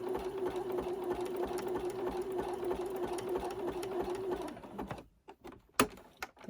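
A sewing machine stitches a buttonhole on a newborn elf outfit, running in a steady, even whir for about four seconds before stopping, followed by a few faint clicks and handling noises.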